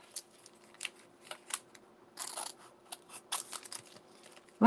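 Scissors trim paper during a card-crafting session in short, irregular bursts of snipping. The cuts are quiet and close, with small pauses between them and near-silence around them.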